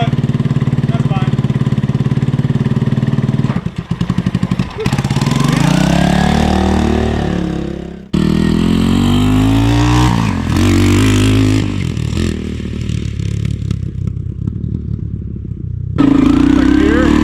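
Honda ATC200X three-wheeler with a swapped-in TRX200SX engine runs and revs close by while being ridden through the gears, its clattering single-cylinder note rising and falling, with brief drops and a voice heard at moments.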